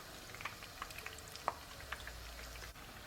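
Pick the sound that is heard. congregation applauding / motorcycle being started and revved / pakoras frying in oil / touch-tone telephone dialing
pakoras frying in oil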